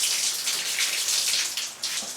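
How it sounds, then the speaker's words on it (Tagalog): A campsite toilet tap runs hard, a strong close water flow hissing and splashing steadily with slight surges for a couple of seconds. "lakas ng tubig"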